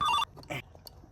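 A phone ringtone plays in a short, bright, tonal burst and cuts off quickly, followed by faint scattered clicks and rustles.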